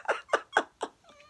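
A domestic cat gives four short, rising meow-like calls at an even pace, close and fairly loud, then the sound trails off into faint tonal noise.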